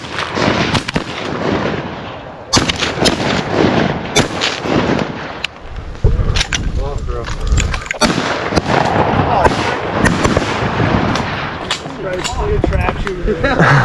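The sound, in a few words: shotgun shots at swimming waterfowl while hunting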